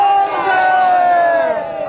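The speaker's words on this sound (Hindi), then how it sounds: "खूब तालियां हो जाएं, हर हर गंगे का जयघोष हो जाए।" A large crowd at the Sangam calls out a loud, sustained shout of Har Har Gange, a dense roar of many voices lasting under two seconds.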